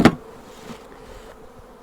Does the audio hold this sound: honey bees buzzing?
yes